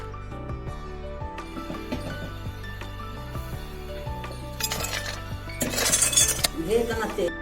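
Crunchy sev ladoo made with jaggery are set down in a metal vessel, giving a run of close, bright clinks and knocks with rustling crunch that grows busier and louder toward the end.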